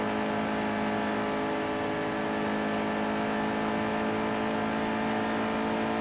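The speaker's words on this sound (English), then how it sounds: "Almost went full throttle there." A NASCAR race car engine screams at full throttle in the NASCAR Heat 2 video game, a loud, sustained whine that holds an even pitch throughout.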